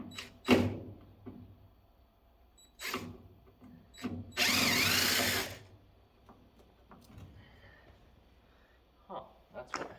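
A drill fitted with an extension backs out screws while scrapping, giving short bursts of whirring with one longer steady run, between quiet stretches and nearby talk.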